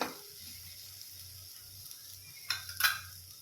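Moong dal chutney is stirred in a sizzling pan, with a soft, steady fry and a few short scraping strokes of a spoon against the metal near the end.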